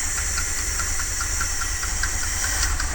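A 1978 Dodge van engine idles with a low rumble, faint rhythmic ticking or knocking repeating through it from an exhaust leak, and a constant hiss over the top.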